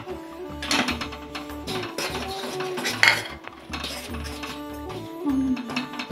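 Utensils scrape and clink against a pot as thickened, boiled-down jaggery is stirred by hand in a home kitchen, a steady run of metallic knocks with a louder clank near the middle.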